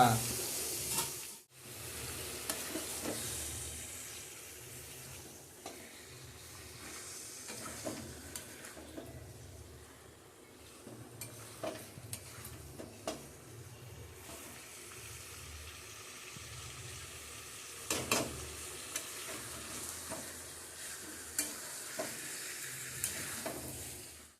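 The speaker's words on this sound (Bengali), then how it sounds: "আর তাহলে তো ভালো করে কষাচ্ছে মাংসটা" Spicy red meat curry sizzles steadily in a pan as it is fried down and stirred, a continuous close frying hiss broken by scraping stirs and occasional louder clanks, with a voice talking faintly at times.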